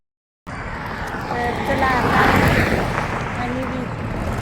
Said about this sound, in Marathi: हे बघा गाड्या चालू आहेत